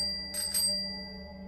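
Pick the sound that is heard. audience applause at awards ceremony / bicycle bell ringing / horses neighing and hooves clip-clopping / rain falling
bicycle bell ringing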